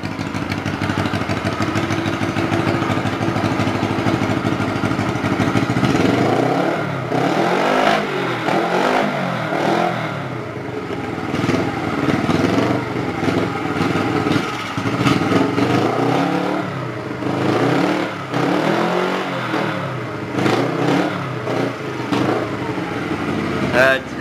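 A Honda CB125T motorcycle engine runs steadily on both cylinders, close and fairly loud, with a continuous throb and a few rises in revs, while people talk over it.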